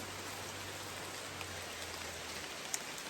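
Steady rain falling outdoors, a dense even patter with a few sharper drops, fairly quiet, with no talk.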